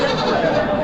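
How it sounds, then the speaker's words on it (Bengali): Baby goats bleat loudly and close at a livestock goat market, a brief nasal wavering cry with faint crowd noise behind it. "প্রচুর বাচ্চা ছাগল।"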